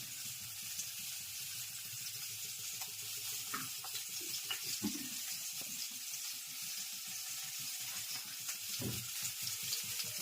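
Stuffed brinjals fry in a pan with a soft, even sizzle and occasional faint clicks, heard alone at low volume.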